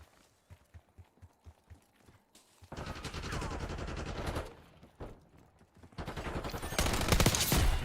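Gunfire in Warzone, starting with a rapid series of soft footstep-like thuds, then long loud bursts of automatic fire broken by a short pause and resuming even louder.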